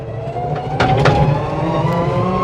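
A big tractor's heavy engine rumbles past, close and steady, with some clanking and a brief rise in noise midway.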